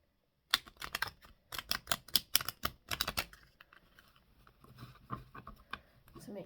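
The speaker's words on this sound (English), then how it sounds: "I'm giving them a proper shuffle." Tarot cards are shuffled nearby in quick, crisp riffling bursts for a few seconds, followed by softer sliding and tapping as the deck settles.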